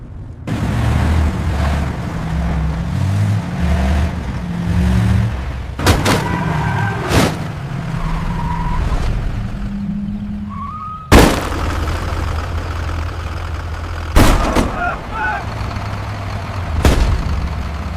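A vehicle engine rumbles and revs as the car pushes forward, its low drone running steadily throughout while several loud, sharp booms and bangs cut through the tense scene.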